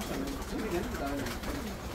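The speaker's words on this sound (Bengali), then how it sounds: "এপাশেও দেখেন কত কবুতর, প্রচুর কবুতর।" Pigeons coo in low, rolling calls inside a loft standing in floodwater in Satkhira, Bangladesh, soft and close under a steady background hum.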